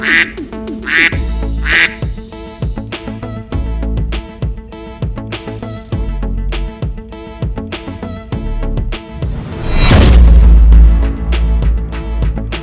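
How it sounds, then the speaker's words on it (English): Repeated duck quacks from ducks in a river sound over a busy, rhythmic background of clacking toy train noises and music, with a deep rumble near the end. "Ducks in the river."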